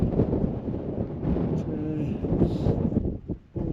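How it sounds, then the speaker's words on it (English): Strong wind buffets a night wild camp on Helvellyn in the Lake District, a loud, close roar of gusts against the microphone that surges and dips briefly near the end. "The wind's still pretty bad."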